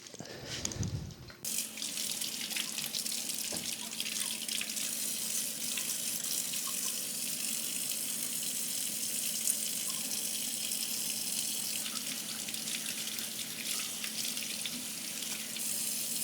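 Aquarium water from a planted tank being emptied out, a steady broadband rush of pouring water that runs continuously for about fifteen seconds after a short muffled start, close and even in level.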